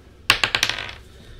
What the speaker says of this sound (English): Let me get my dice, and we're gonna use this for both rolls.